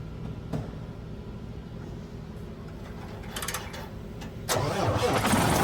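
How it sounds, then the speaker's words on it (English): A truck engine with a fuel-related fault code 1925 cranks and catches partway through, then settles into a steady, louder rumble with some background noise. "When we started the truck"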